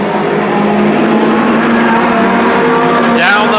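Mini stock race cars, among them a Chevy Monza, roaring around the oval at Petaluma Speedway, a loud continuous engine drone with a rising whine near the end.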